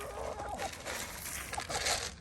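Backyard chickens cluck softly and intermittently while being fed, their short calls close by over rustling and a steady outdoor background, with no one talking.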